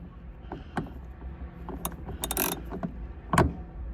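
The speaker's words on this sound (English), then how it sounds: "Loosen this 10mm bolt." A socket wrench with an extension loosens a 10mm bolt behind a dash handle in a 3rd-gen Toyota Tacoma Access Cab, giving quick ratcheting clicks and metallic taps in short bursts, close up with no talk.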